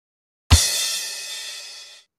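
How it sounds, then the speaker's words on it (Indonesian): Kick drum and crash cymbal hit together once, a thudding low punch under a bright, splashy cymbal wash that rings out for about a second and a half, close and alone. "Kemudian ketuk secara bersamaan kick dan crash."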